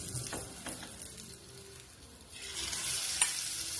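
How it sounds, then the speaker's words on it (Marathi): Rava patties shallow frying in a little oil on a tava, a soft steady sizzle with light stirring and scraping, close up and with no talk. "आता हे पॅटीस असे छानपैकी आपल्याला फ्राय करून घ्यायचे आहेत, शॅलो फ्राय."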